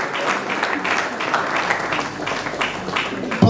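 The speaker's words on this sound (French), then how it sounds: "On les accueille avec des acclamations," An audience at a music show applauds and cheers to welcome guests on stage, a continuous wash of clapping with crowd voices rising and falling.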